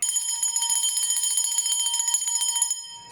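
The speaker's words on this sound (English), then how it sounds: "I'm going to ring the bell to anchor that powerful energy" A small bell rings in rapid, shimmering repeated strikes for nearly three seconds, bright and close, then fades out.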